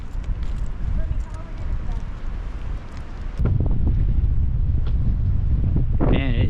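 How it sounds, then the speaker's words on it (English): Wind buffets the microphone in a loud, continuous low rumble that intensifies partway through, with a voice briefly heard near the end. "Man, it is windy out here."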